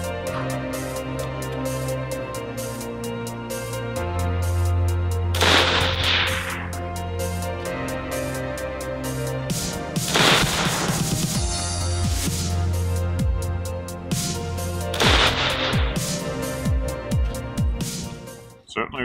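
A Daniel Defense DDM4 V7 AR-15 rifle fires 75 grain Hornady steel match ammunition outdoors, three loud evenly spaced shots ringing out several seconds apart over a low steady background hum.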